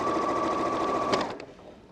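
A sewing machine stitching the seams of a Christmas tree quilt block, its steady close whirring motor running for over a second before winding down and stopping, followed by a few faint clicks.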